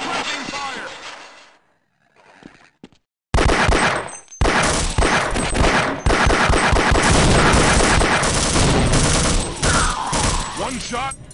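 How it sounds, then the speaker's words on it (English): Dense automatic gunfire and shattering glass erupt in a Half-Life mod firefight, loud sustained bursts following a quieter stretch with voices, continuing almost without pause to the end. "Need suppressing fire!"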